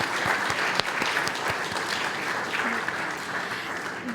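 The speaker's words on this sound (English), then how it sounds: "So everyone, if we could please give a round of applause for that." An audience at a university alumni awards ceremony applauds in a steady, dense round of clapping from many hands throughout, filling the room without voices.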